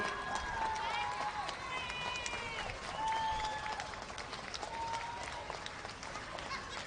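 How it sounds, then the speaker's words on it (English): A crowd roars at a polo ground in Manipur as the India versus England teams ride a victory lap, a steady wash of cheering and clapping laced with shrill whistles, loud and sustained throughout. "Let's hear that crowd go crazy."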